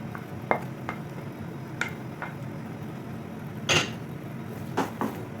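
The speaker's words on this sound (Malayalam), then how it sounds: "നന്നായിട്ടൊന്ന് ഇളക്കി യോജിപ്പിച്ചെടുക്കുക." A spoon stirs a potato cream mix into chicken in a pan, with a few sharp clinks and scrapes of utensil on metal over a steady low kitchen hiss, close by and without talk.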